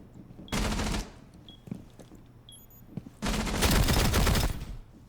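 A TCSG automatic weapon fires in a shooter game: one loud sustained burst of under half a second, a quieter gap with a few faint shots, then a longer, heavier burst of nearly two seconds.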